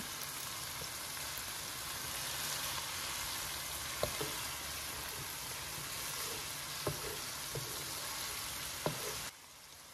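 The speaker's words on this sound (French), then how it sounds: "Donc là, je remue bien comme il faut." Vegetables and rice frying in a pan with salt, pepper and paprika, a steady broadband sizzle filling the clip while a utensil stirs, with a few sharp scrapes and taps against the pan; no talking.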